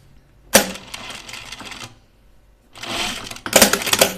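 Sewing machine running an understitching seam on a PJ top, two bursts of rapid mechanical stitching separated by a quiet pause, close and fairly loud.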